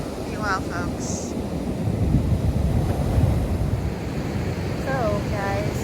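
Ocean surf rolls on a foggy morning as a steady, close rush of breaking waves. Wind buffets the microphone throughout, and faint bird calls come through briefly near the start and end.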